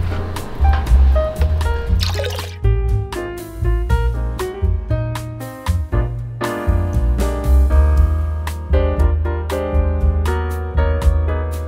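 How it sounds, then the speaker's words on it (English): Cool water poured steadily into warm cheese curds during Colby cheesemaking, a close, continuous splashing fill with repeated drips and trickles and small sloshing bursts throughout. "We've still got a half gallon of cool water to add."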